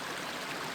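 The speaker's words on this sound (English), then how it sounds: "watching the water move over the rocks" A stream flows over rocks on the Winding Stairs Nature Trails in Lafayette, Tennessee, making a steady, soft rushing wash with no voices.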